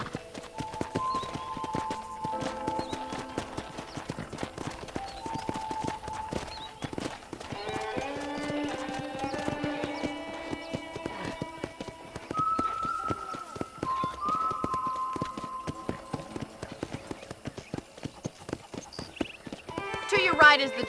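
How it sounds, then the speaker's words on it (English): A horse ridden in Red Dead Redemption clip-clops with a steady stream of hooves on a ranch property, running under a voice and light background music. "let's see if you can still ride a horse"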